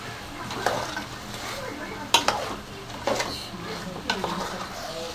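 Ginger-garlic paste stirred into chicken frying in a pan, with soft sizzling broken by several sharp clanks and scrapes of a spoon against the pot, close and moderately loud.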